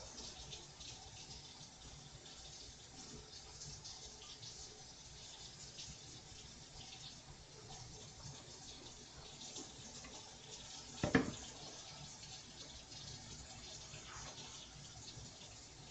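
Hot water running steadily from a tap, a faint continuous gushing hiss with one brief louder knock partway through.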